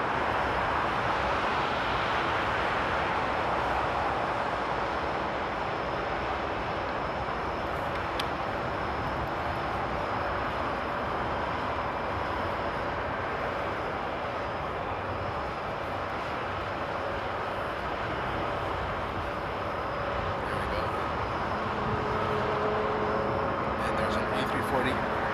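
An Airbus A340-600 jet taxis at Frankfurt Airport in frosty de-icing conditions, giving a steady, continuous broadband engine roar that holds throughout, with a voice talking over it.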